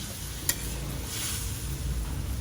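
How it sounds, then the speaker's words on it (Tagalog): Shrimp paste (bagoong alamang) stirred into pork binagoongan in a pan, a steady close sizzle with scraping and one sharp utensil click near the start. "Pwede na siyang haluin."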